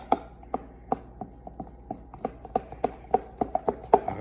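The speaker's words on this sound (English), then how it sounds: "Now I'm gonna go ahead and stir it up." Sourdough starter being stirred in an airtight container, with a steady run of sharp knocking taps from the utensil against the container's sides, close and fairly even in rhythm, with no talking.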